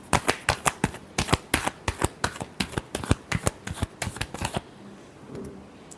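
Tarot cards being shuffled up close, a rapid run of crisp riffling slaps in quick rhythm for several seconds, then stopping into near quiet.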